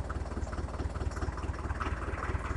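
A tractor runs with its PTO shaft turning in reverse gear, giving a steady, low, pulsing engine drone that stays even throughout with no voices.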